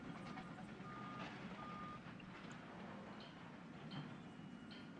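A ranger jeep drives up in Jurassic World Evolution: a faint, low engine drone with a few short electronic beeps near the start.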